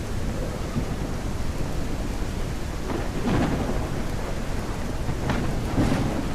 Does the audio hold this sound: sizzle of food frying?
no